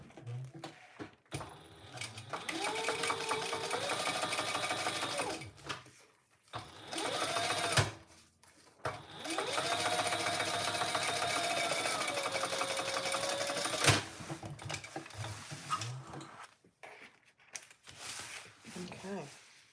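A sewing machine topstitching a Roadie bag runs in three long, loud bursts of rapid stitching, its motor whine rising and settling in pitch, with short pauses and quieter handling clicks between runs.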